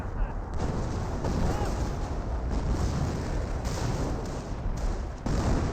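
Hummel artillery barrages in Company of Heroes, a continuous heavy rumble of booming shell impacts and explosions, loud and dense, with a commentator's voice faintly underneath.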